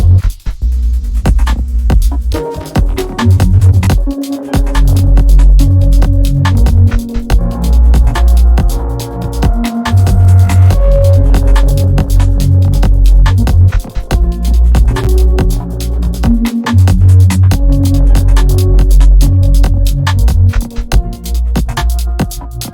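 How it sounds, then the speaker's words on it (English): A self-produced song plays back at full, dense volume, with heavy throbbing bass hits and sustained tonal layers repeating in a steady loop-based pattern throughout, with brief drops in the low end. "here's a song that I've been working on"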